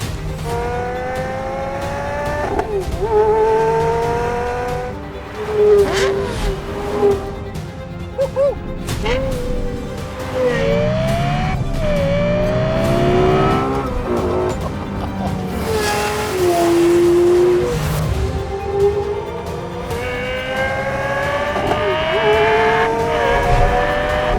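A Lexus LFA sports car engine revs and shifts through gears repeatedly, its pitch climbing and dropping, loud and close, with occasional tire noise.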